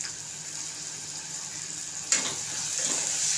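Onion frying with tomato and salt in a pan for a cauliflower-potato curry: a soft, continuous sizzle, then a sudden scrape of stirring about two-thirds through that raises the hiss for the rest.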